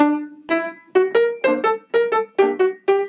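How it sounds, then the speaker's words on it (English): A melodic jazz phrase of short, separated notes played at a moderate, even pace, each note clipped off before the next. "if it's played in a detached way all the way through, it would sound like this"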